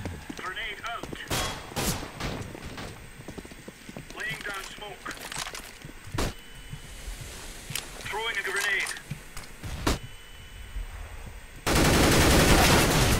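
Gunfire in a first-person video game shooter: a string of sharp, loud shots spaced irregularly across the clip, with a few bursts, under ongoing game noise, and a dense burst of noise at the end.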